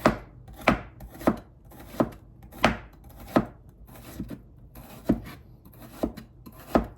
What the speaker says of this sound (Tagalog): Hiwa pa lang matagal. Paghihiwa.